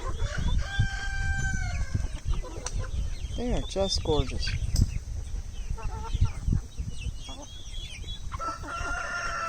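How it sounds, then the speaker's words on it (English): A rooster crows among clucking chickens in a backyard flock, the calls repeating near and loud over constant bird chatter while someone speaks briefly. "Rooster alert."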